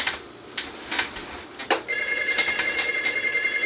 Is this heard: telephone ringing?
yes